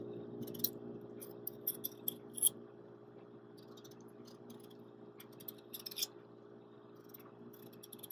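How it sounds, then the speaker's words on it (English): A raw potato being peeled with a knife, sparse faint crisp scraping flicks in small irregular clusters over a quiet steady background hum. "I'm going to use a knife because I find that I go much faster with the knife"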